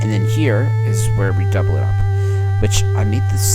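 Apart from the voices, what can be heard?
No distinct noise like a dog, phone or traffic.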